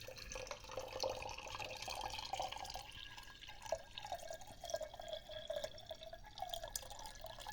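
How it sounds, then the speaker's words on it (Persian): Water trickles and drips steadily into a clay hookah base during preparation, a continuous soft pouring with small splashing drops throughout. "کمی حالا آب میریزم"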